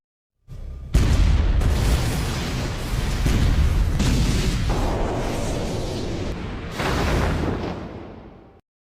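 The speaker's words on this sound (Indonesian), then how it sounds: "Sebuah cahaya pun turun dari langit yang meledakkan hutan dan menurunkan naga." Anime explosion as a beam of light from the sky blasts a forest apart, a sudden heavy boom followed by several seconds of loud rumbling roar that swells again before cutting off.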